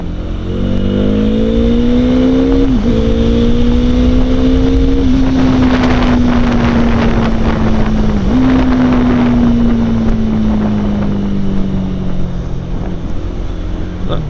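A motorcycle engine accelerates steadily through long gear pulls, its pitch climbing then dipping at each shift, loud and close with heavy wind rush over the microphone.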